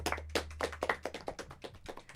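Scattered hand claps from a small group in a radio studio, a brief irregular patter of close, moderately loud claps with no talk over them.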